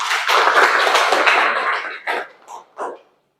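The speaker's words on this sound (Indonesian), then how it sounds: "kasih tepuk tangan dulu untuk kita semua" Group of students clapping together in a school classroom session, a dense burst of applause that thins out into a few scattered final claps.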